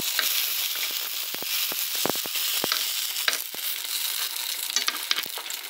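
A gluten-free Vietnamese spring roll frying in oil that bubbles up big, a constant close hiss of frying broken by frequent sharp pops and crackles scattered irregularly, with no voices.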